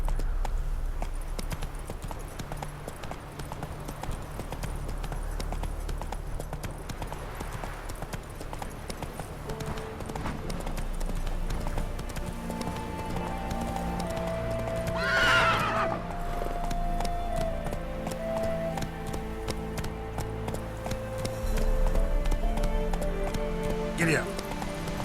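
A horse in The Witcher 3 video game runs with steady hoofbeats and snorts under a continuous game soundscape, with occasional talk.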